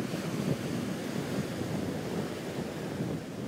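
Ocean surf and gusting wind sweep a beach after Hurricane Sandy, a dense continuous roar of breaking waves with wind buffeting the microphone throughout.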